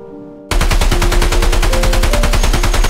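A Russian machine gun opens up after a brief low hum, firing a loud, rapid, unbroken burst of shots at close range that runs to the end, with no talking.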